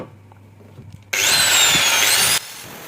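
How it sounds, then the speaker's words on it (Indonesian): A power drill with a 5 mm bit whines loudly for just over a second while drilling a bolt, starting abruptly and cutting off sharply, after a quiet start. "Kita bor dengan bor 5 mili."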